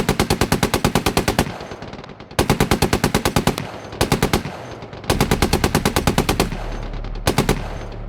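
Machine-gun fire at a BTR armored vehicle in the PC tank game Gunner HEAT, loud rapid bursts of roughly a second each separated by short pauses, five bursts in all, with a low engine rumble underneath.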